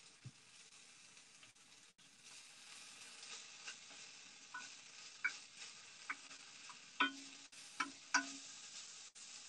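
Small pieces of pork for a Thai-style rice bowl sizzle and fry steadily in a pan, with soft crackles and occasional louder pops and stirring clicks, fairly quiet with no talk.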